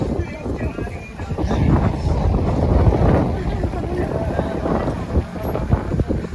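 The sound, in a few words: strong wind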